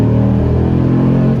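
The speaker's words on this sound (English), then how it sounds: "a big fire-breathing, naturally aspirated V10 and a pickup truck all in one" Ram SRT-10 pickup with a naturally aspirated Viper V10, a deep, loud, steady rumbling idle or cruise, close and continuous for a brief moment.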